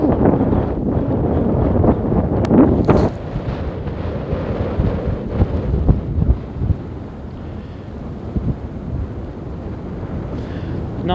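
Outdoor wind buffeting the microphone near an erupting volcano at Litlihrutur, a loud rumbling roar with gusty low-end thumps that swell early on and then settle into a steadier blustery rush.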